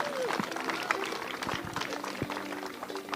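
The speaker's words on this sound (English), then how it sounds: "So nice round of applause for Orlin Cohen and all the trainers that were here today." A crowd at a National Football Foundation showcase event gives a round of applause, steady clapping mixed with cheering while a voice talks over it.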